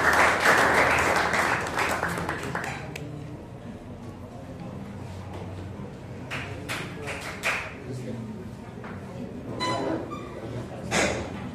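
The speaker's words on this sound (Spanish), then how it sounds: "Vamos a darle un fuerte aplauso a la doctora Blanca Romero." An audience at a lecture on lactate in high-performance tower running claps for a speaker; a burst of applause fades into scattered, irregular claps and taps with speech heard underneath.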